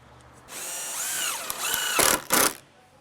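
A power tool recuts short lengths of wooden roof batten for a small shed roof, a whining motor run rising and falling in pitch with two sharper bursts near the end, close and loud.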